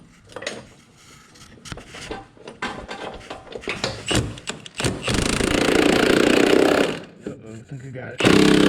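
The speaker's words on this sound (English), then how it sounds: "an extension and a wobble socket on the impact" An impact wrench fitted with an extension and wobble socket works on a Humvee M998A1 during restoration, firing loud, sustained hammering bursts between metallic clanks of tools, with someone talking in between.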